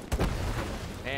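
A grenade goes off in the tactical shooter Hell Let Loose: a short, close double burst of booming noise at the start, then a low, busy battlefield rumble.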